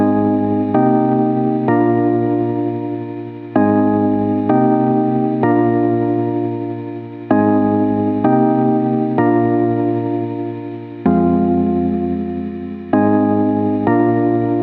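Block chords ring out on a synth as full sustained chords, struck in a repeating pattern with each chord slowly fading, loud and alone with no talk.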